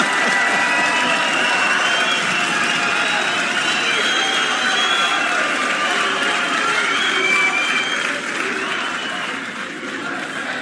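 An audience at a live stage event applauds loudly in a dense, continuous wash of clapping that eases off slightly near the end.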